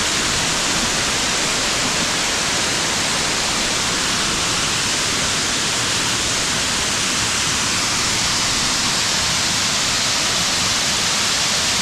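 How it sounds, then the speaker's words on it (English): Kings Creek Falls rushes in a steady, loud, broadband roar close by on a forest trail, continuous and unchanging throughout with no voices. "This is King Creek Waterfall."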